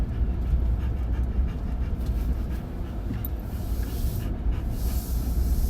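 A dog panting steadily inside a moving car, rhythmic breathy puffs layered over a continuous loud road and engine rumble with no voices.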